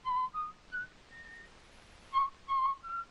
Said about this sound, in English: Whistle the German songs,